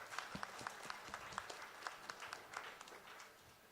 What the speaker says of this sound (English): Round of applause for Janong.